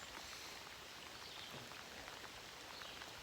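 Steady rain falls on a small boat out on a cold fishing trip, a dense even hiss of drops spattering the surface for the whole stretch, with no voices.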